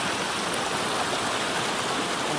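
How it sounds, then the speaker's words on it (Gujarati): A forest stream flows steadily nearby, a continuous loud rushing and splashing of water with no voices over it. "ઝરણાનો અવાજ જોરદાર આવે"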